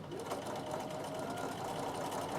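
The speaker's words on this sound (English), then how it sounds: "So I will back stitch that little bit because I've unpicked." A sewing machine back stitches over a soft braid on a Christmas table runner, running steadily and closely with a continuous rapid whir throughout.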